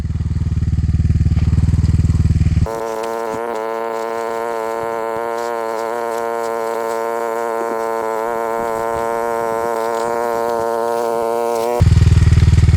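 Rottor F1 enduro motorcycle with its engine running, a steady buzzing idle held close for several seconds, framed by louder rushing noise at the start and end.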